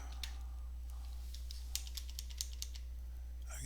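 Computer keyboard typing comes through as sparse, light clicks in short irregular clusters, fairly faint over a steady low electrical hum.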